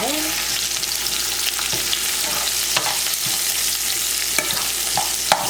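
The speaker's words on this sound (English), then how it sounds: "So I'm going to go ahead and add my onion." Onion stirred into potatoes frying over low heat, a continuous close sizzle with occasional soft scraping taps of the spoon.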